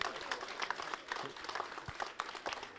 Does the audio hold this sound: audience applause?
yes